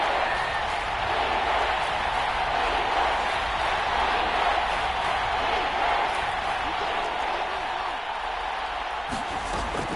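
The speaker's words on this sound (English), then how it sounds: "Crowd getting in it a bit already." Stadium crowd noise in a Madden football game, Bears against the Lions: a broad, continuous roar that holds steady and full, with faint cheers rising within it.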